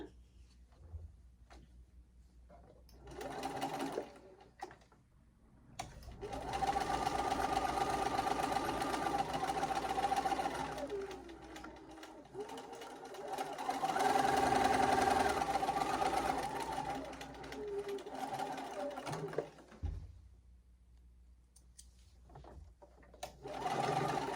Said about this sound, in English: we're going to sew